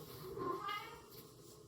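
A house cat gives a single drawn-out meow indoors, fairly quiet and close, with faint room noise around it.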